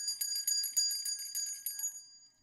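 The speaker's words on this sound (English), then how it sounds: "However, ringing the bells." Charity kettle bells ring in a quick, bright jingling pattern, a small handbell shaken repeatedly for about two seconds, fairly faint and alone before fading out.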